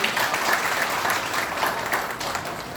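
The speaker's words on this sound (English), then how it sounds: "We have a huge round of applause for Ms. Yvonne Chakraborty." An audience at a yoga event applauds warmly, a dense, sustained round of clapping that stays loud and even from start to finish.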